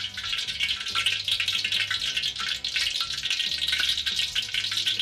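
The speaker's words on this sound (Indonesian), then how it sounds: "Sekarang kita mau menumis bumbu utama yang kita tumis." Garlic and shallots sauté in a hot pan for an Indonesian anchovy stir-fry, a bright, dense sizzle crackling continuously and loudly with no talking.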